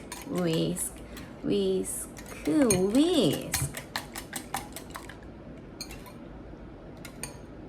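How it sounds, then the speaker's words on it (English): A wire whisk beats ingredients for kimbap in a bowl, making quick, light metallic clicks and taps that are loudest near the end, after a voice talks over the first half. "And please whisk with the whisker."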